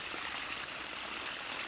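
Water runs in a stream beside a rural path, a steady, close, hissing rush with soft trickling and no breaks.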